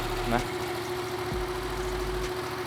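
A 2019 Yamaha MT-07 with its CP2 twin engine and stock exhaust idles steadily, giving a continuous low, even rumble with a slight hum throughout.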